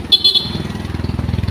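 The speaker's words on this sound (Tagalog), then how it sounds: "so busina ng tricycle matidinig mo" Tricycle horn honking on a road, a short toot near the start followed by the putter of the tricycle's engine close by.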